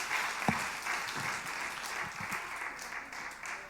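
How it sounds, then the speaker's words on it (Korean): Applause from a church congregation at a Sunday afternoon service, moderately distant and steady for a few seconds with a few louder claps near the start. "박수해 주세요"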